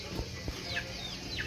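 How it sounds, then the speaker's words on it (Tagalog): Twelve-day-old chicks in a backyard coop give a couple of high, sliding peeps close by, over a steady low background rumble and occasional soft rustling. "ito po yung sisiw namin after 12 days"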